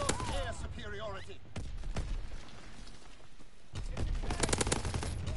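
Rapid anti-aircraft gunfire in Call of Duty, loud, dense bursts of automatic fire filling most of the clip and stopping briefly around the middle before resuming, with game effects layered underneath.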